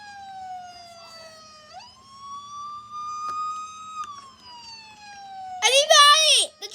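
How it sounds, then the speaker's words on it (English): A video game siren wails as one loud electronic tone that climbs, holds steady for several seconds and then cuts off, and a voice speaks loudly over the end. "Oh, the siren's going off."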